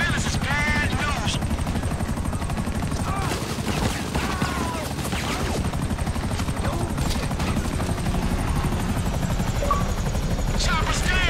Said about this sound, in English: got some attack choppers on me